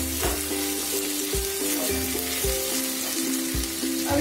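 Curry leaves hit hot oil for Rajasthani-style kadhi, sizzling loudly and steadily up close. A low, wavering tonal hum and periodic soft knocks run beneath the frying.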